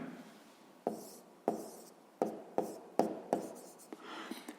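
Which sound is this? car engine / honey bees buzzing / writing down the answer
writing down the answer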